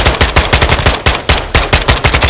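The KASTOV-74u rifle fires in Modern Warfare 2, sounding as loud, rapid automatic bursts with a steady rhythm of close shots and brief pauses between strings.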